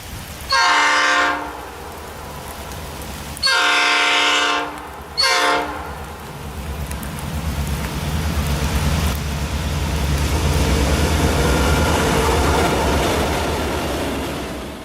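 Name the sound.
freight train with GP38-2 diesel locomotive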